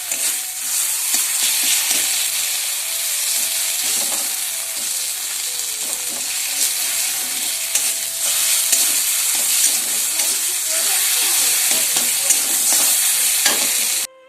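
Tomato and chilli powder fry and sizzle in a pan for a dried fish curry, with a steady loud crackle and frequent stirring scrapes throughout, no talk.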